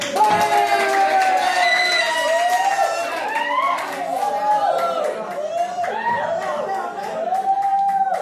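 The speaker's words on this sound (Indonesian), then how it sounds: "Tepuk tangan." A school audience at an Islamic senior high school event claps and cheers loudly and continuously, with many excited voices shouting over steady crowd noise.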